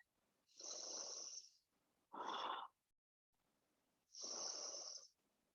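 Deep breathing during a yoga class: three slow, audible breaths close to the mic, two long airy exhales with a shorter, sharper inhale between them, separated by near silence.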